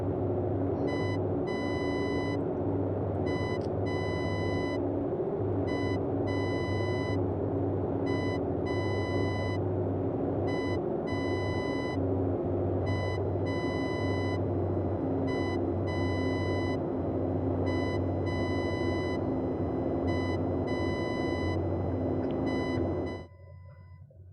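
Repeating beeps in a dot-dash pattern from a Morse code navigation beacon in Flight Simulator 2020, over a steady Boeing 247D engine rumble and cockpit drone that cuts off at the end.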